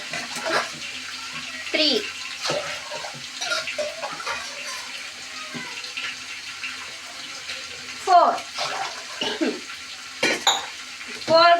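Water poured from a glass into a pot of rice for bagara rice, several separate splashing pours with clinks of the pot, while someone talks over them.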